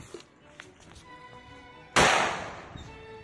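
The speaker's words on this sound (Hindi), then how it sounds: "और ये है ओरिजिनल ब्रांड का माचिस वाला फटाका, जिसे पानी वाला फटाका भी बोलते हैं" An Original brand matchstick firecracker, also called a water or bidi cracker, goes off in a single sharp, loud bang that decays quickly. Faint small knocks come before it.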